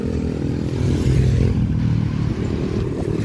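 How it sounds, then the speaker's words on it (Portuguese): A mini motorcycle rides past at a beach on a cloudy Sunday, its small engine buzzing loud and close with a rough, steady drone and some clatter, no voices over it. "Aí a mini moto."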